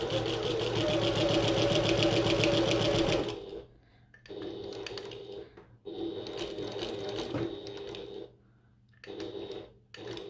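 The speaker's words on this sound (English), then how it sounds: "I'm going to sew up the line to the top of the pocket and back stitch again" A sewing machine stitches a pocket on a bucket tote bag, running in a long steady burst up close, then in several shorter bursts with brief pauses between them.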